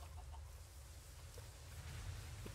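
Chickens in Minecraft give a few faint, scattered clucks over a steady low rumble of game ambience, with no voices.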